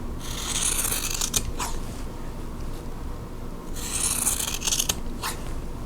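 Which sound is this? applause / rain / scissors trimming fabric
scissors trimming fabric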